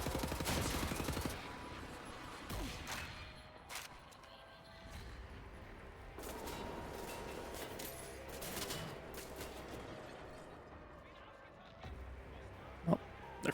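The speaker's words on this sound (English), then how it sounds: "I'm firing an automatic rifle in the room next to them" Automatic rifle fire in Wolfenstein: The New Order, sustained rapid bursts of gunfire in a busy game mix, with someone talking over much of it.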